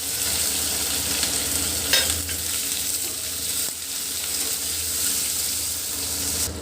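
Chopped onion and tomato fry in a pan alongside browned potato for a thin fish-head curry, giving a continuous close sizzle with occasional stirring scrapes and no speech.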